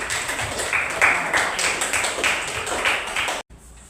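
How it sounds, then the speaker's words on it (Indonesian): Audience clapping in a steady, dense round at a student group presentation, moderately loud and continuous for about three seconds before stopping abruptly, followed by faint room noise. "Beri tepuk tangan dulu."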